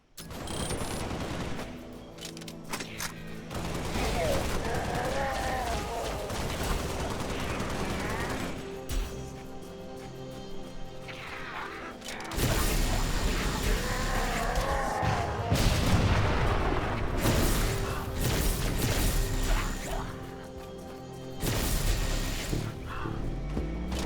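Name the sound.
heavy gunfire in the video game Halo: Spartan Strike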